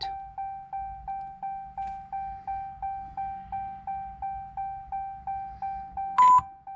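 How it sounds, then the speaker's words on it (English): A regular electronic beep from a 2022 Ram 2500 during an engine tune write, repeating about every third of a second, steady and clear, ending with a brief higher-pitched burst. "I don't know what that beep was for, but we'll accept it."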